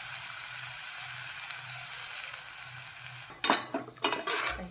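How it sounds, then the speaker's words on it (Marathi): Ground coconut mixture roasting in a pan gives a steady hiss for several seconds, then stirring adds a few louder scraping and rattling strokes of the spatula near the end. "हे भाजत आलेलं आहे आपलं खोबऱ्याचं"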